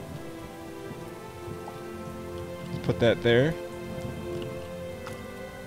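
Rain falls steadily in the video game Starbound, a constant soft hiss that runs through the whole moment, with a brief louder cluster of sounds midway and a voice talking over it.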